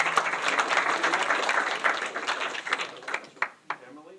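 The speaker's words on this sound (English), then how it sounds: "Round of applause." Audience applause at a Health 2.0 NYC patient empowerment event, a dense burst of clapping from a crowd that thins and tapers off toward the end, with a few scattered late claps.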